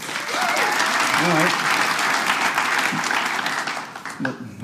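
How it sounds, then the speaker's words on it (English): A comedy-club audience claps in a loud, dense round of applause that runs nearly the whole time, with a voice briefly speaking over it near the end. "how many of you guys played sports when you were younger, like in grade school?"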